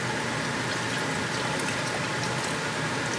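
Warm water poured into a container at a steady, continuous rush, a full noisy gush held at an even level from start to finish with no voices over it.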